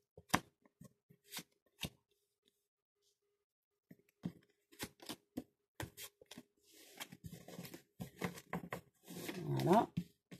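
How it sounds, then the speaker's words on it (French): Tarot cards are spread across a surface before five are drawn: sparse papery taps and slides, then a denser run of rustling and sliding near the end, with short gaps of silence between. "j'étale les cartes et je vais en tirer 5"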